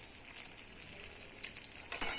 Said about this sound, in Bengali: ডাটাগুলো প্রথমে ভেজে নিচ্ছি নুনগুলো দিয়ে ভালো করে একটু বেশি করে তেল দিয়েছি যাতে ফ্রাই করে নেবো সব কিছু